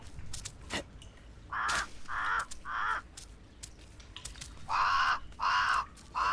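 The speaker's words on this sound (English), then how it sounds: "We're chasing the raven or crow." A crow or raven in a video game caws in two bursts, about three harsh calls and then three more, loud and close over a low ambient background with no talk.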